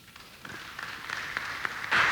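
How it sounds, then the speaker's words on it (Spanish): Audience applause at an International Mother Language Day event in Huauchinango, Puebla, building from scattered claps into a fuller, steady round that swells louder near the end. "Fuerte los aplausos"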